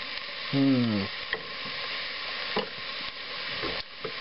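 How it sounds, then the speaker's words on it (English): Ground beef browning with onions sautéing in a pot gives a steady, soft sizzle with occasional stirring scrapes, plus a brief tonal sound partway through. "you're going to basically brown the ground beef and let the onions saute"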